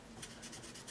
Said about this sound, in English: I'm gonna grab a black marker and go ahead and draw in his triangle eye